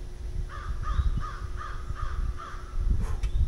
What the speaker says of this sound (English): let me know what that bird is in the comments below